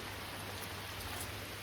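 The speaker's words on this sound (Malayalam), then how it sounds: "നല്ല മഴയല്ലേ" Heavy rain pours steadily, a dense, continuous hiss with no pauses and nobody speaking.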